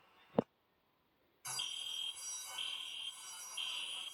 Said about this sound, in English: people who live there say the fire alarms have been going off for no reason